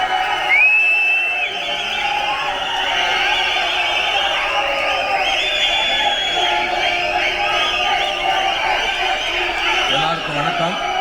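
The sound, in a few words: audience applause welcoming actor Soori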